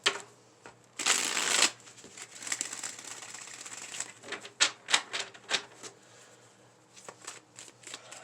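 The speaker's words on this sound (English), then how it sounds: "Let's shuffle." Playing cards are shuffled close up: one quick riffle burst, followed by softer scattered taps and slides of cards being handled.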